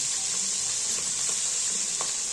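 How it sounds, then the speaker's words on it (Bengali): Parshe fish frying in hot oil, a steady close sizzle with faint crackles and occasional small pops throughout, no voices. "মাছগুলো যতক্ষণ ভাজা হচ্ছে"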